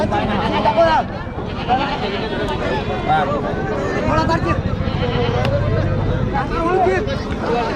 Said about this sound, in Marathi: बकऱ्याच बकर आहेत बकऱ्या बोकडे मेंढ्या